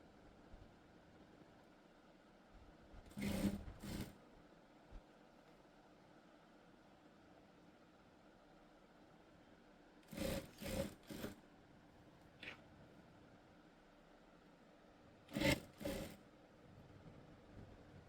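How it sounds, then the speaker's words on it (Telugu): Sewing machine stitching a school uniform top, three short bursts of running spaced several seconds apart with quiet between them, close but fairly soft. "ఇలా పెట్టేసుకుని కుట్టు అనేది వేసేసుకోండి చివరి వరకు అంతే."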